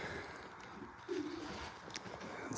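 Racing pigeons coo softly close by, a low rolling call rising once over quiet rustling background noise.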